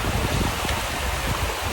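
Steady, dense hiss of rain falling outdoors at a lakeside campsite on Lake Wolfgangsee, unbroken throughout with a low rumble underneath.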